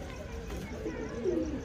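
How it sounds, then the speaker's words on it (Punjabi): Soft, low cooing from flying pigeons kept by a fancier, a few throaty coos rising near the end over a steady outdoor background hum. "ਕਬੂਤਰ ਮੱਠੀ ਮੱਠੀ ਪਰਵਾਜ਼ ਕਰਦਾ ਆਪਣੇ ਜਾਲ ਦੇ ਗੇੜੇ ਕੱਢਦਾ ਹੋਵੇ"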